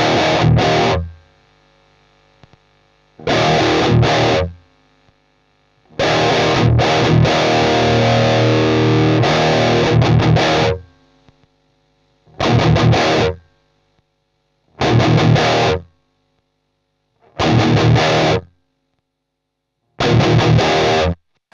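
Electric guitar played through a Cuvave Cube Baby portable multi-effects unit set to distortion, heard in repeated loud bursts of chords and riffs separated by short silences, with one longer sustained passage early on.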